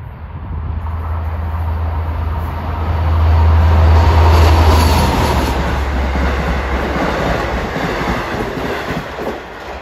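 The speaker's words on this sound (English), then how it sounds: "coming up next eastbound is train 662, Long Island City to Port Jefferson" A Long Island Rail Road train, number 662 eastbound from Long Island City to Port Jefferson, passes at Elmont with a loud, steady rumble and rolling wheel noise that swells in the middle and eases slightly, heard close.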